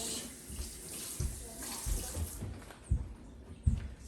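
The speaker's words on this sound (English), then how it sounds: "I'm gonna add some chicken broth." Chicken broth poured from a container into a turkey roasting tray, a steady close liquid splash with a few louder pulses toward the end.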